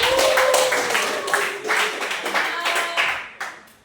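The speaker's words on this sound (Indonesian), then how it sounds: "kita beri tepuk tangan dulu untuk Febiana" A small group of students claps for Febiana in a classroom peer-teaching session, a brief, scattered burst of hand claps that thins out after a few seconds.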